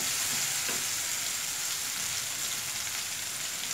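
Water hits a hot pan of cooking raw mango chutney, giving a steady, bright hissing sizzle that holds evenly from start to finish with no talk.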